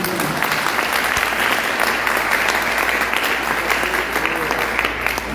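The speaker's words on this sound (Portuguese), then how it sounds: "Essas palmas é para dizer que vocês são muito bem-vindos no nosso meio" Church congregation applauding to welcome visitors during a worship service, a loud sustained wash of many hands clapping without pause, with faint voices beneath.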